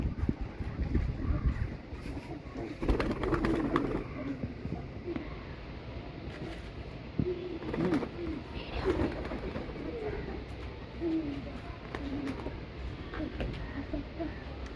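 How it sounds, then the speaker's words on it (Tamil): Pigeons being released from their loft, with soft intermittent cooing and rustling over steady wind noise outdoors, fairly faint and continuous throughout. "எல்லா புறாவையும் வெளியே விட போகிறோம்."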